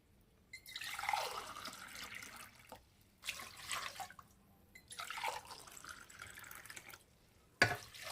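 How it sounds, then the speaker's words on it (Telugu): Water pours in several short bursts with brief pauses between them, splashing into a metal pressure cooker holding mutton, close by. "టూ గ్లాస్ వాటర్ వేస్తున్నా"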